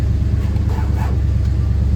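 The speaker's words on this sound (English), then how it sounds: "You can hear the top working." A motorized convertible top mechanism on a 1966 Ford Fairlane GT 390 four-speed convertible drones as a steady low hum and rumble, continuous and fairly close, with no voices.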